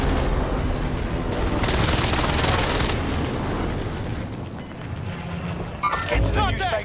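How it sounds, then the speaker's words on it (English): An allied precision airstrike in a battle royale video game booms and rumbles loudly and continuously at close range, with rapid gunfire in the mix, while players talk throughout. "Allied precision airstrike incoming."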